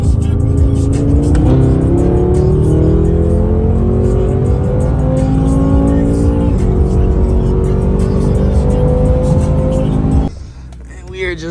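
BMW M6 accelerating hard in a quick drag-style pull, the engine note climbing through several gear changes loud and close from inside the car, then easing off near the end.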